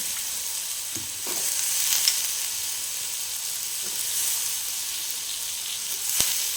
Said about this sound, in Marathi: आता काय याच्यामध्ये परतून घ्यायचं. याच्यामध्ये परतून घ्यायचा